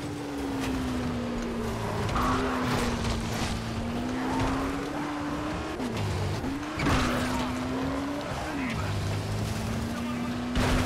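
Car engine droning steadily in Dying Light: The Following, a sustained hum rising and dipping with gear shifts and a couple of impact thuds around the middle, with game effects and some speech-like noise layered over it.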